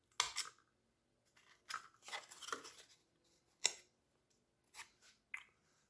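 An X-Acto knife cuts a slot in cardboard, giving sharp scratchy slicing strokes and crisp clicks scattered across several seconds, quiet and close, with pauses between cuts.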